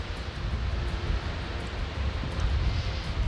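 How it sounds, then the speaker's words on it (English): Strong wind gust buffeting a microphone outdoors beside an RV in dusty, sandy conditions, a steady loud roar with heavy low rumble that swells and surges throughout, no voices. "Here comes another big gust."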